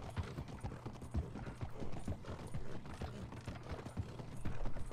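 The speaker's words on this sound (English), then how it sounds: "Come on, Humphrey, you're so slow going over wood." Horse hooves in Red Dead Redemption II clip-clop over a wooden surface in a steady walking rhythm, quiet and close, with no voices.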